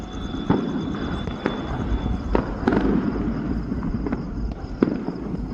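Firecrackers burst one after another during Bhim Jayanti celebrations in Latur, sharp scattered pops, some near and some farther off, over a steady crackling background roar.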